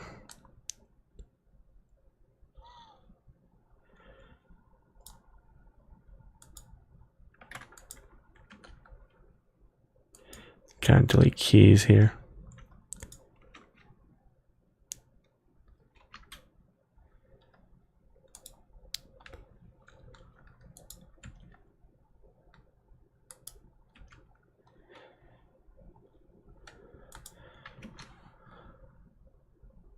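Computer keyboard keys click sparsely throughout, with a brief loud clattering burst of rapid typing near the middle, while someone talks quietly at a desk.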